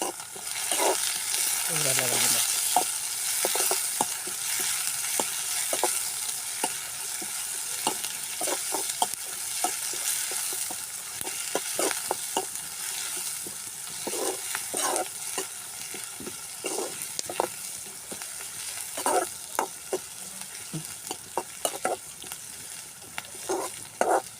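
Onions sauté in a pan for a vegetable samosa filling in a village kitchen, with a steady bright sizzle throughout and frequent stirring scrapes and clinks of the spoon against the pan.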